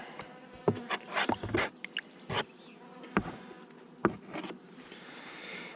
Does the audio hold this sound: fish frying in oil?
no